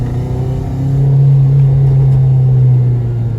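A K20Z3-swapped Honda Civic DX with a manual conversion and a cracked exhaust drones at a steady, close rumble that swells slightly in the middle, with no distinct pops standing out.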